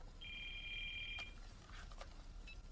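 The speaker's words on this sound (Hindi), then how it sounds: "सॉरी लॉयड का फोन है।" A telephone rings in an indoor scene, one sustained electronic trill lasting about a second, then a few faint clicks and a short second chirp, moderately loud over quiet room tone.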